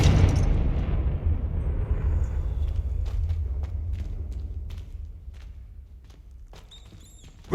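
A Confringo fire spell in the video game Hogwarts Legacy explodes with a loud, deep boom that rolls off into a long fading rumble, followed by faint footsteps and small clicks.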